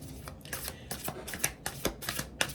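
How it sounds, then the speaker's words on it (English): A deck of tarot cards is shuffled by hand, a quick run of crisp riffling bursts repeating in an uneven rhythm, close and fairly soft with no talk. "we'll get in here and give a good shuffle for pile 1"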